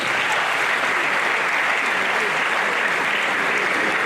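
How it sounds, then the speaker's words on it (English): An audience at an economic development lecture applauds, a steady, even roar of many hands clapping continuously at moderate volume, with no break. "So we can give us some applause as well."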